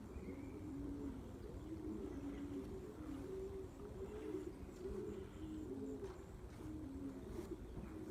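Pigeons coo steadily in a low, rolling rhythm throughout, a flock of several birds close by on a cloudy day, with faint higher chirps above the continuous cooing.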